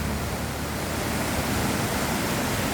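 Water flowing through woodland vegetation gives off a soft, steady rushing hiss, continuous and even throughout, with no voices.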